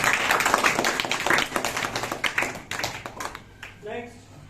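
Students in a classroom clap for a classmate, a close burst of scattered, uneven handclaps that thins out, with a voice speaking briefly at the end.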